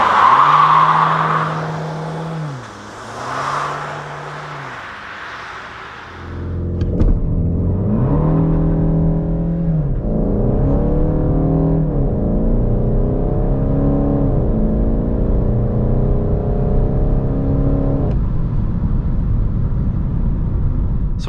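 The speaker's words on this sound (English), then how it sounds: "see how fast the car goes on the country road to 100" A 200 hp VW Golf 8 GTD diesel launches hard with launch control on a country road toward 100 km/h, its engine droning and climbing in pitch through several distinct upshifts, loud and steady with no talk.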